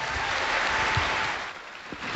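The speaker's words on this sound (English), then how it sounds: "Michael Dunlop getting a warm round of applause" Applause from an audience at a motorcycle racing press launch at the Villa Marina, steady dense clapping throughout that thins slightly toward the end.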